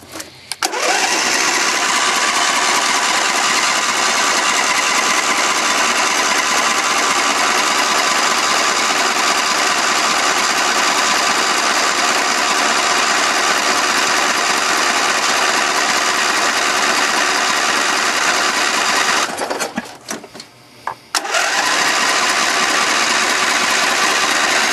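A racing tractor engine, started cold, runs loud and raspy close by, with a sustained high-revving drone that dips briefly near the end before picking back up.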